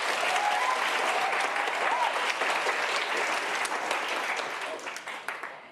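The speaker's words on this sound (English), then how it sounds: "Give yourselves a round of applause for being here." Audience applause at a community launch event fills the clip with dense, even clapping that holds steady and then tapers off toward the end, with faint voices in the crowd.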